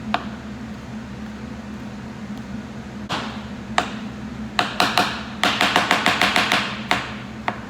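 A knife chops food on a cutting board for a Thanksgiving meal, starting with a few scattered close taps, then a quick run of about a dozen rhythmic chops over a steady background hum.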